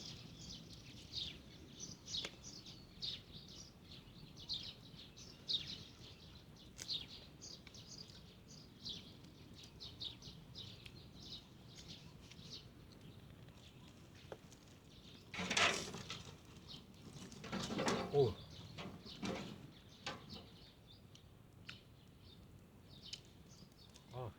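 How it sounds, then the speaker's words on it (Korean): Small birds chirp and tweet in scattered bursts close by, with a couple of louder flurries of calls near the middle, over a soft outdoor background; no clear cooing stands out. "새들이 엄청 끼웃거리네"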